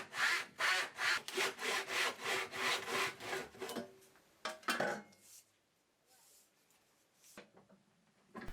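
A tenon saw cuts wood for a mitered corner box with a fast, even rhythm of close rasping strokes, about a dozen in a row. A few scattered scrapes and handling noises follow in a quieter stretch.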